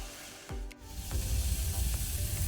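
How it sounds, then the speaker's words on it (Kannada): Onions and dill leaves fry over medium-high heat in a pan for a lobia masala, a steady close sizzle with a few stirring scrapes and no talking. "ಒಳ್ಳೆ ರೀತಿ ಈರುಳ್ಳಿ ಮತ್ತು ಸಬ್ಬಸಿಗೆ ಸೊಪ್ಪು ಫ್ರೈ ಆಗಿದೆ."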